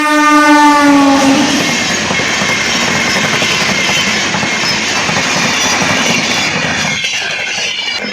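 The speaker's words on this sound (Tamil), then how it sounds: "ரயில் வந்துக்கிட்டு இருக்கு." A train draws near, a loud sustained horn blast opening over the rumble and clatter of rail cars that continues steadily and fades slightly at the end, with no talk.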